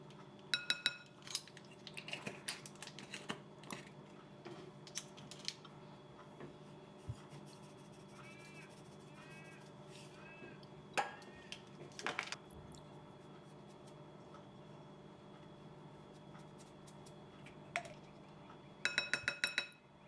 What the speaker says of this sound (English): And we will mix everything together with a spatula.